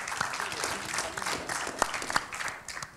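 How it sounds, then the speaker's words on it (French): An audience at an artificial-intelligence round table at the Paris Air Forum 2018 breaks into dense, sustained applause from many hands, steady and close, fading slightly at the end. "Vous pouvez l'applaudir."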